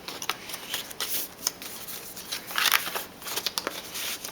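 Paper card slid into a lined envelope, giving a run of dry papery rustles and shuffling slides, close and moderately quiet, with no talking.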